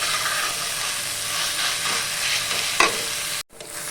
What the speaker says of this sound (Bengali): চতুর্দিকে ছিটতে থাকছে পোস্তর এগুলো